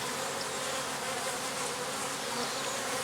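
A dense, steady hum of many honeybees buzzing all around an open hive that has just swarmed, continuous and close, with no talking.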